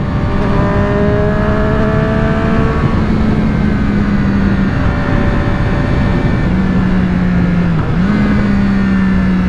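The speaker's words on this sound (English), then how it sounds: "There's some pops coming out the exhaust." Triumph Street Triple 765R motorcycle fitted with an AliExpress SC Project exhaust, idling and revving steadily up close, with a loud continuous engine drone and a few pitch dips as the throttle blips.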